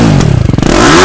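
TVS Apache RR 310 motorcycle with a full-system exhaust and dB killer fitted, revved in quick sharp blips that pulse rapidly and then swell into a rising rev, close and loud.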